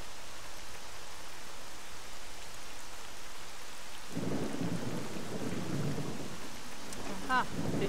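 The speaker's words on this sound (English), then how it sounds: "At least we have some thunder to spice things up." Rain hisses steadily in the Pripyat video game, then a deep roll of thunder breaks in about halfway and rumbles loudly on over the downpour, with a short chirp near the end.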